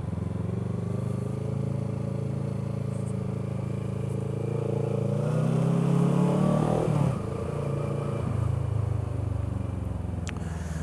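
A cheap, economical motorcycle's engine runs steadily at close range, swelling in a rough rise around the middle and easing back down, with a faint bit of talk underneath.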